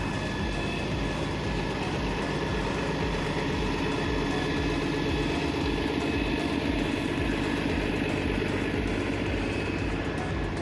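A bus engine idles at the Settlement Bus Depot in Disney's Fort Wilderness, a steady low rumble with a continuous mechanical hum that holds level and fairly loud throughout, with no voices.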